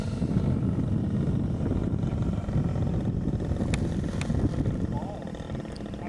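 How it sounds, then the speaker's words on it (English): Stiff wind buffets the microphone at an RC flying field during a 50cc Yak 55 flight, a loud continuous low rumble with gusty swells, while a plane's engine drones underneath and a voice speaks briefly. "You can hear we had a pretty stiff wind."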